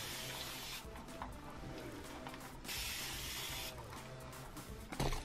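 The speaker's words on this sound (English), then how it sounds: "I like to spray my hair a little bit more" Several short hissing sprays of mist, each lasting about a second, with a faint rustle between them in a quiet room.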